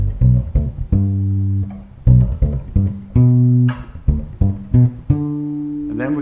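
Bass guitar plucks the notes of a major triad in second inversion, starting on the fifth, as a short repeating sequence of deep ringing notes with brief gaps, close and alone.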